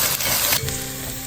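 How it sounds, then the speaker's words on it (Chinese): Eggs frying and sizzling in a hot oiled wok as they are stir-fried, a close, steady crackle filling the short stretch with brief scraping touches. "然后再打几个鸡蛋，溜溜先炒鸡蛋"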